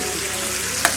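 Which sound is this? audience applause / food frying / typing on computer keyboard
food frying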